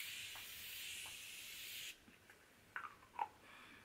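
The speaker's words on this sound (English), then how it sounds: "I'm gonna spray some setting spray now." Makeup setting spray mists out in one faint, steady hiss lasting about two seconds, followed by quiet soft taps and rustles in a hushed room.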